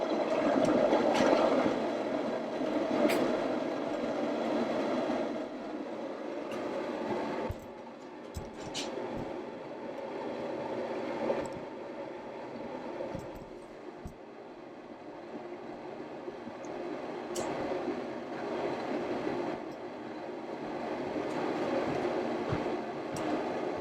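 A Camp Chef Explorer camping stove burner turned up high gives a steady roaring hiss throughout, loud and close, with a few faint clicks and knocks over the constant rush.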